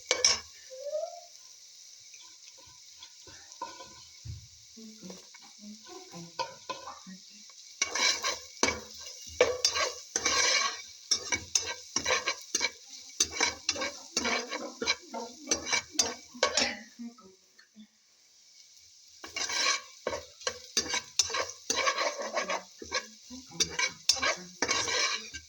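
Carrots being stir-fried into fried rice in a pan for a Filipino breakfast, with repeated scraping and stirring strokes of a utensil against the pan over a steady sizzle, pausing briefly before resuming.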